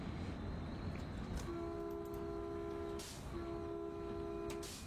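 A train running in a train simulator game mod: steady low rumble of the train under way, with two long sustained horn blasts, loud and tonal, sounding one after the other.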